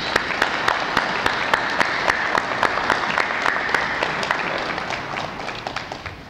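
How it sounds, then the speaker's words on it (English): Audience applause at a farewell event for the Bevatron at LBNL, steady crowd clapping with a regular pulse of louder claps, sustained and gradually thinning toward the end. "And I would like to give you a round of applause."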